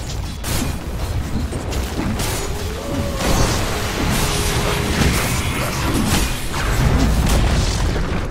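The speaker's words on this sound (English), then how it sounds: "Dire's middle tower has fallen" Tower being destroyed in Dota 2, a loud, sustained booming crash with rumbling debris and whooshing impacts lasting several seconds, no talking over it.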